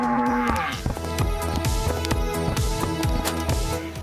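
A cow lows while being herded indoors, its moo sounding over a steady rhythmic backing beat, fairly loud and close throughout.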